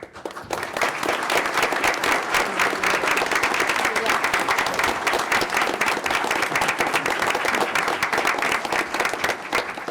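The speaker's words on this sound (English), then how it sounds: "I'd also like to extend a round of applause for our students' family members joining us today" Sustained applause from an audience at a school board meeting, honoring students' family members: dense, even clapping from a crowd that starts almost at once and holds steady for about ten seconds.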